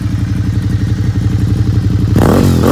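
A Suzuki SV650 V-twin motorcycle engine idles with a lumpy, loping rhythm, then the throttle is blipped and the revs climb sharply near the end.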